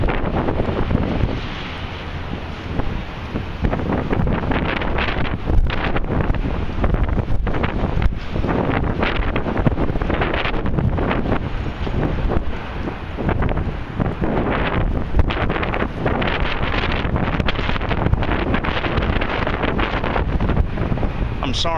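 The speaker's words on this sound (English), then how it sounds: "the wind is terrible today" Strong gusts buffet the microphone outdoors at a construction site in lower Manhattan, a constant loud low roar that barely lets up, with a voice faintly underneath.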